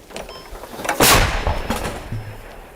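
One heavy, booming shot from a captured Russian artillery gun fires close by, with a sharp blast followed by a rumbling tail, and softer thuds and outdoor noise around it.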